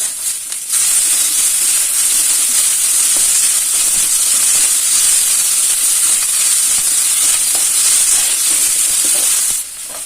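Thin strands of vegetable fry in hot oil for a North Karnataka style palya, a loud, even hissing sizzle that holds for nearly ten seconds before easing off at the end.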